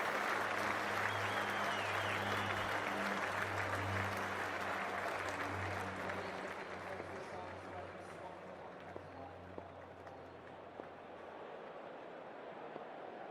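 Steady crowd applause and cheering fill a packed stadium at a Cricket 24 India vs Canada T20 World Cup match, loud and continuous at first, then easing slightly, with low stadium hum underneath.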